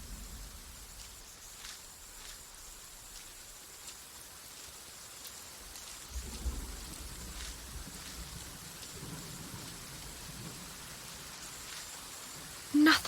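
Steady rain falls outdoors by a gate, a soft, continuous wash with a low rumble of thunder partway through and a brief louder knock at the end.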